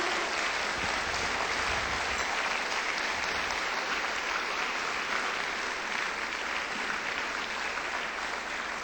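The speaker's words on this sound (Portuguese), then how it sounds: "Dê um aplauso ao Senhor" A crowd claps steadily in a sustained, dense round of applause that holds its level throughout.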